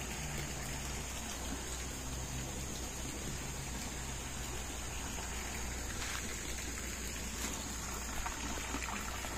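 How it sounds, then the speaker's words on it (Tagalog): Natural water trickles and seeps through rocks at a hidden spot in Tanay, Rizal, making a steady, dense, close hiss like light rain that holds evenly throughout with no voices. "Doon yung tumatagos yung mga tubig-tubig."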